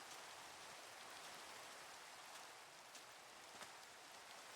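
Steady rain falls in the Minecraft video game, a dense, even hiss of drops with a few brighter taps, continuous and close with no talk over it.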